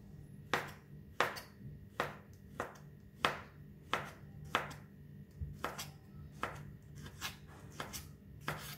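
A knife chops sausages, tomato and mushrooms on a cutting board in a kitchen, giving a steady series of sharp, evenly spaced thuds, close and fairly quiet with no talking.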